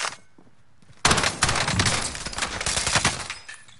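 Call of Duty Warzone gunfire in Verdanski, a loud sustained stream of rapid automatic shots cutting in abruptly and rattling on for several seconds before tapering off.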